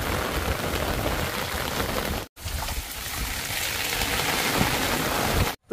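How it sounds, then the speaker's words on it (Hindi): Heavy rain pours steadily outdoors, a dense, loud hiss of drops on surfaces that cuts out briefly twice before resuming. "देख लो कितना तेज बारिश हो रहा है, लगता है हम भीग जाएंगे पूरा।"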